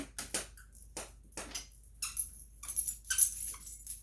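Soft intermittent squeaks and light patter from a dog chewing and batting a small squeaky toy, quiet with gaps between bursts.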